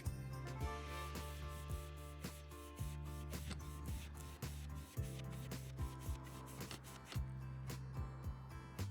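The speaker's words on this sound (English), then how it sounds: "I'm just taking off a very shiny top coat" Steady hand sanding of a very shiny painted top coat, scuffing it before a solar panel install; repeated close rubbing strokes in a regular back-and-forth rhythm, fairly quiet with no talking.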